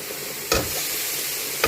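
Spice masala for lobia roasts in a pan with a constant close sizzle, broken by two brief scraping stirs of a spoon, and no one talks.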